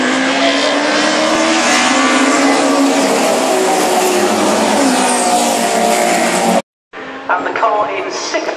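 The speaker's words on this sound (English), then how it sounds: "the car in sixth place is the MGB of Joe Parrington" MGB race car at Cadwell Park racing circuit, a loud continuous engine roar close by with rising pitch as it accelerates past, a brief cut of silence, then more engine noise resuming; a commentator's voice runs underneath.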